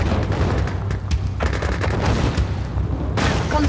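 Rapid gunfire and blasts from units fighting in the real-time strategy game Command & Conquer: Red Alert 2, a dense, continuous barrage of shots and booms with no pauses.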